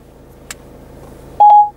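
The voice assistant in a Peugeot 3008 car sounds a single clear electronic beep for a fraction of a second after a faint click, in a quiet cabin.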